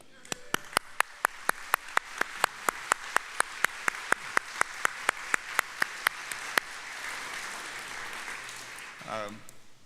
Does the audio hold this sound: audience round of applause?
yes